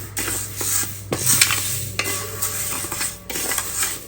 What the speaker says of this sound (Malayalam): പയ്യെ വറുത്തെടുക്കാം ചെറുതായിട്ട് കളറൊന്ന് മാറണ വരെ